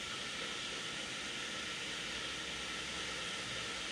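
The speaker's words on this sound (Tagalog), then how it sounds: "At ayan guys, kumukulo na siya ngayon." A pot of soup with milk boils on a stove, giving a steady, even hiss of bubbling and steam with no pauses and no voices.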